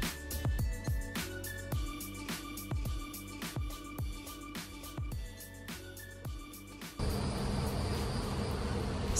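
Bees buzz around an opened beehive with a steady close drone, joined by a broad hiss in the final seconds.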